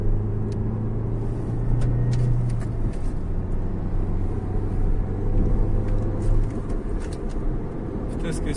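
Renault Megane 4 car on a road test, a steady low engine and tyre rumble from inside the cabin with constant road noise throughout, a faint hum in the background.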